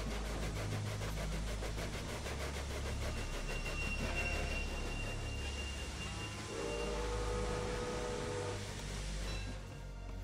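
Train in Railway Empire pulling away and rolling along the rails, a continuous rumbling clatter with faint wheel squeals and brief tonal whines.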